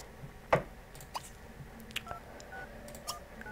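A short electronic dialing beep from a cell phone in The Sims 3, a single sharp tone burst early on followed by faint scattered game sound effects at low level.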